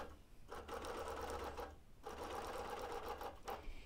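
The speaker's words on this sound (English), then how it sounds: "Again, I'm stitching by guess and by gosh" A sewing machine stitches a quilt in basting mode, running in two long steady bursts with a short pause between them and a brief stop near the end, close and clear with no talk.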